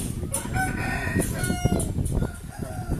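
Chickens clucking and murmuring close by, with a rooster crowing in the background, continuous farmyard chatter throughout.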